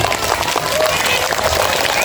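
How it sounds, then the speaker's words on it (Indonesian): An audience of schoolchildren at a Maulid Nabi celebration applauds in a brief, continuous patter of many hands, fairly close and steady throughout. "Tepuk tangan dulu."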